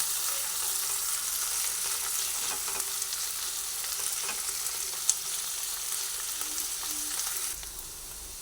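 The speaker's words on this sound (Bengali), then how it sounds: "ভালোভাবে একসঙ্গে পেঁয়াজ রসুন আর শুকনো লঙ্কা ভেজে নিচ্ছি" Onion, garlic and dried chillies frying together in a pan for a kakrol dish, giving a continuous bright sizzle with faint stirring scrapes and one sharp tap, steady and close, then easing near the end, with no talking.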